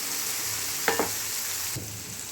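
Mushrooms frying and browning in a pan with a steady close sizzle, broken by a brief stirring clatter partway through and another light knock near the end.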